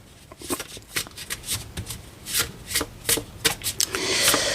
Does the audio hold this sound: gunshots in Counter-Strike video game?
no